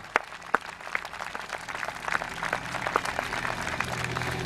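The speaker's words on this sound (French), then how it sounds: "je vous demande d'applaudir, s'il vous plaît, la cohorte Prima Aquitanorum de Via Romana." Outdoor audience applauding a Roman reenactment cohort, a few sharp early claps swelling into sustained crowd clapping that grows a little louder toward the end.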